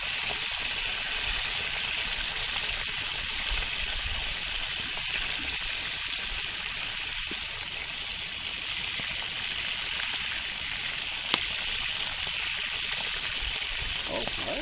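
Fish fries in a very hot pan over a campfire with a steady, dense hiss and crackle that holds at an even level throughout, plus one sharp pop near the end.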